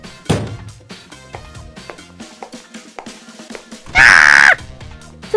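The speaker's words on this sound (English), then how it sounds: "They're screaming coming from the bathroom!" Screaming coming from a bathroom: a sharp scream bursts out early, then a loud, sustained shriek blares for about a second amid other voices and sounds.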